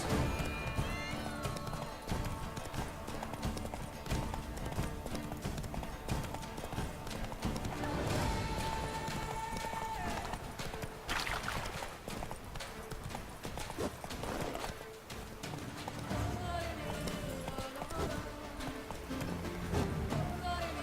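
Roach the horse galloping in The Witcher 3, rapid rhythmic hoofbeats carried continuously under game music and ambient sound, with a voice speaking briefly.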